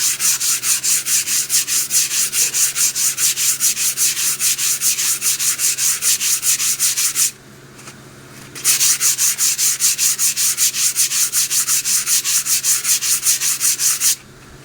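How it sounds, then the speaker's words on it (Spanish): Sandpaper is rubbed by hand over a clay pot to smooth its surface, producing a steady, fast back-and-forth scraping rhythm that is loud and close, with a brief pause partway through before the strokes resume. "La olla se tiene que lijar hasta que las rayas de la lija se quiten."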